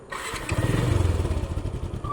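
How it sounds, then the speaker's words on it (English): A manual motorcycle engine starts with its electric starter motor, catching after a short crank and settling into a loud, close, rhythmic chugging idle with no talk. "This is the starter motor. You press this, and the motorcycle turns on, just like this."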